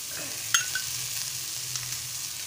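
Fish frying Malvani style in hot oil makes a continuous close sizzle, with a brief clink of a utensil stirring early on and no one speaking.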